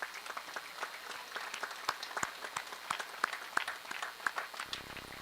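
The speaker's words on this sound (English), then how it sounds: "I am sure you can give yourself a round of applause." Applause from graduates at a high school commencement, scattered uneven claps picking up across the hall and stopping abruptly near the end.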